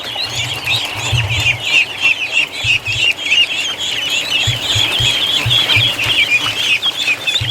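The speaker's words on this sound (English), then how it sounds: "Ducklings everywhere." A crowd of ducklings peeping and chattering outdoors in a steady, dense chorus of high chirps, loud and close, with occasional low thumps from handling or wind beneath.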